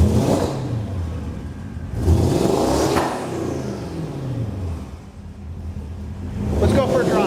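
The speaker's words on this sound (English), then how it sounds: "Give us a rev." A 2006 Porsche Cayenne Turbo S twin-turbo V8 revs up in several rising bursts, loud and close, with a voice speaking over part of it.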